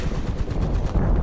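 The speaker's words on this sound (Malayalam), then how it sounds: "ഇതാണ് ടാങ്കിൽ നിന്ന് വരുന്ന ഷൂട്ടിംഗ് സൗണ്ട്" A tank's gun fires in a video game, a loud, dense burst of booming gunfire that fills the whole moment without pause.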